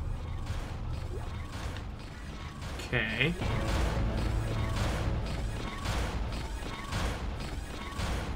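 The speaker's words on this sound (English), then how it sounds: "Looks like that door is malfunctioning" Malfunctioning door mechanism in the video game Dead Space, a grinding, creaking mechanical clatter with a short squealing screech midway, set against dark ambient noise while a voice speaks briefly.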